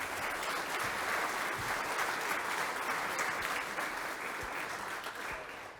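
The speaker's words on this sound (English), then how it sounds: "So let's give a round of applause for Catherine Bolafont." Audience at a University of Richmond athletics hall of fame ceremony applauds Catherine Bolafont, a sustained round of clapping from a crowd that holds steady and then begins to taper at the end.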